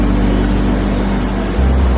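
A genset engine runs loud and steady at close range during testing of a replaced 12-volt DC charging alternator, a constant droning rumble with a slight shift in pitch near the end.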